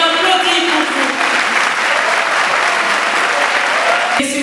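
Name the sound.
audience applause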